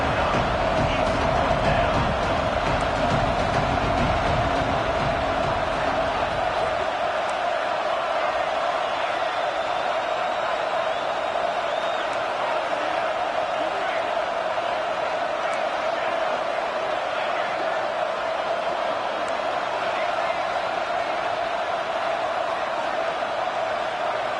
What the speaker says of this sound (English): Crowd is loud, hoping for a 4th down stop.